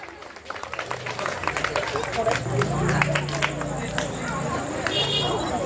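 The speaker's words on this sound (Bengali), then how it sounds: "জোরে করতালি।" Loud applause and cheering from a crowd at a Teachers Day function as a teacher is welcomed with a shawl, with steady clapping and babble lasting throughout and some voices mixed in.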